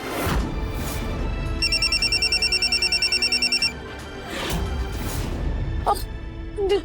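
A phone rings with an incoming video call during a family drama, a steady run of bright repeated electronic ringtone pulses lasting about two seconds over a dense, noisy room background.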